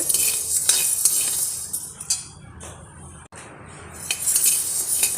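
Green gram dry-roasting in a pan is stirred with a spoon, making close scraping strokes and light metallic clinks in irregular bursts, with brief quieter gaps between them.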